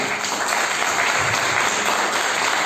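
Church congregation applauding, a loud, dense wash of clapping that holds steady without pause or voices for a few seconds.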